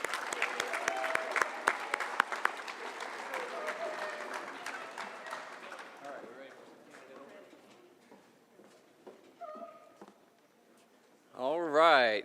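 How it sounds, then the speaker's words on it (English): Audience applause at a senior awards ceremony for scholar athletes, a dense, steady wash of clapping that thins and fades away, followed by a brief louder burst of sound at the end. "So let's give them one last round of applause"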